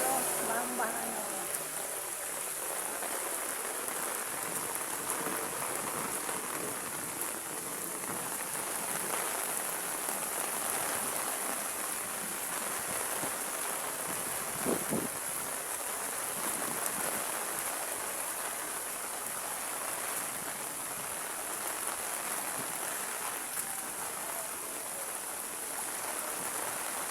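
Heavy typhoon rain hisses steadily over a flooded Metro Manila street, a dense continuous wash of water noise with occasional splashes, while someone speaks intermittently over it.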